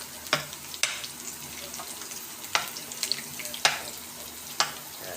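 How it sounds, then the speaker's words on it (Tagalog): Garlic and onion sautéing in a pan give a low background sizzle, punctuated by about six sharp scraping or clinking stirs at irregular intervals, fairly faint and without talking. "Igisa na tayo ng bawang sibuyas."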